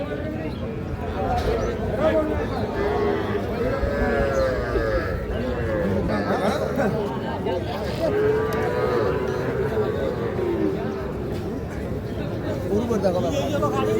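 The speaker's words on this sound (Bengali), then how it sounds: "দুইটাই দেশি জাতের সার গরু" Local-breed cattle low at a busy rural cattle market in Chattogram, Bangladesh, where calves are bought and sold. Moos rise repeatedly over a constant layer of crowd chatter and talk.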